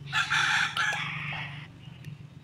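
A rooster crows loudly and close by in one strong, drawn-out call, with a low steady hum underneath and a quieter tail at the end.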